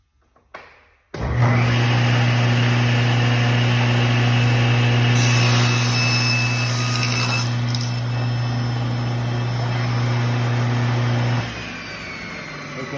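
A mitre saw runs loud and steady for about ten seconds, its motor tone holding while the blade cross-cuts a piece of wood, then winds down near the end.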